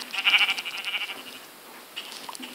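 Sheep bleating in Minecraft survival mode, a few short nasal bleats close by, the first loudest, then a fainter call near the end, with no talk.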